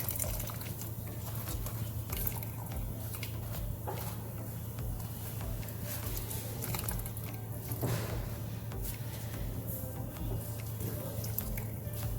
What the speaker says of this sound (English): Now that my coconut is blended, I'm going to pour it into my peas.